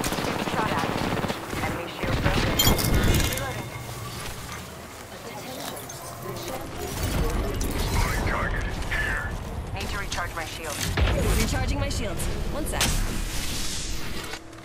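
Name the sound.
gunfire in Apex Legends video game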